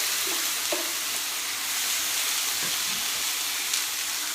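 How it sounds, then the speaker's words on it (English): Steady sizzling of chicken frying in a hot pan with low-calorie cooking spray, a constant hiss with occasional soft pops and scrapes of stirring. "I've heated a frying pan up with the fry light, and I'm just going to add this to it."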